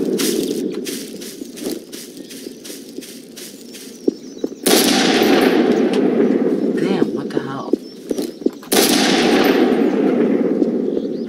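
Pistol fire in the Garry's Mod video game comes as a quick run of sharp shots, then gives way to louder, noisier blasts, with a voice talking at points.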